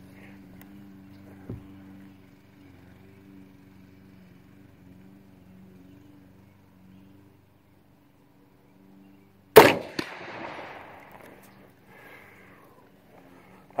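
A single sharp shot from an FN Sako .22-250 rifle fired at a steel target 125 yards out, one loud crack over a quiet outdoor hum with a brief ringing tail.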